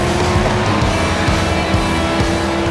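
A Cadillac V-Series.R race car in the iRacing sim roars at a loud, sustained pitch, its engine droning continuously up close with faint tire scrubbing underneath.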